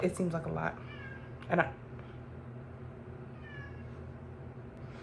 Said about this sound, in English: okay, that was my cat.